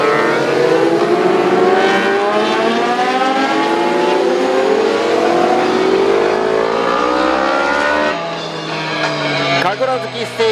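Racing motorcycles such as a Kawasaki H2, GPZ900R, ZRX1100 and Suzuki Katana 1000R roar through warm-up laps at Tsukuba circuit, a dense, loud wash of engines rising and falling in pitch as bikes pass, with a commentator talking over them.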